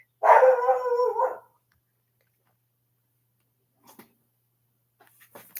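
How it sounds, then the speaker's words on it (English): A neighbour's dog gives one sustained, fairly loud bark or yelp lasting about a second, followed by near silence with only faint scattered sounds. "It's barking at us."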